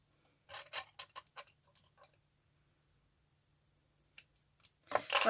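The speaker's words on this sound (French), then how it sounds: "je fais une découpe beaucoup plus fine" Scissors making a fine, careful cut around a small scrapbooking embellishment: a quick run of crisp close snips, a pause, then a few more snips ending in a louder rustle of paper.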